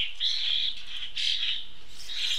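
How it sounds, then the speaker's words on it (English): Recently fledged European starlings calling, a burst of harsh, high, wheezy squawks in a few overlapping waves, fairly close and with no talk. "The incessant hordes of recently fledged European starlings drowning out all other sounds."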